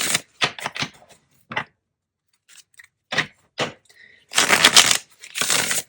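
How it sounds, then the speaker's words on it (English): Tarot cards are shuffled in a series of quick crisp riffles and slaps, bursts separated by short silences, with two longer, louder shuffles near the end and no talk during them. "Let's do two more shuffles for my Librans."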